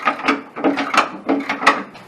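Ratchet tightening bolts on a Ford Bronco body, a series of quick clicking strokes in rapid repeated bursts, close and clear with no talking.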